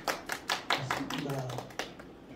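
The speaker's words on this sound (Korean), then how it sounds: "박수로 부탁드리겠습니다." Scattered claps from a small audience welcome a lecturer at a Guri City Hall parenting seminar on school-violence prevention, a few distinct hand claps mixed with a voice speaking over them.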